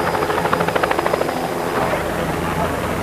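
American helicopters arriving unannounced in Phnom Penh: loud, dense rotor noise with rapid rhythmic chopping that fades into a steady roar, with a voice speaking over it.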